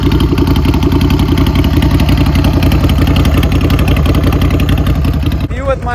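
Straight-piped Ducati Scrambler motorcycle revving hard, a loud, continuous rapid exhaust pulse filling the whole stretch before cutting off abruptly near the end.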